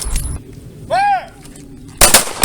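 Pistol shots at an outdoor shooting range during a self-defense fundamentals drill, with a sharp broadband crack at the start and another near the end, a shouted range command in between.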